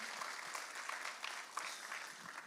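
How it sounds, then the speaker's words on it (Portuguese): A church congregation applauds in worship, a steady crowd of hand claps filling the space at moderate level with no talking over it. "Você pode dar um aplauso bem forte a Jesus por esse momento glorioso que estamos vivendo."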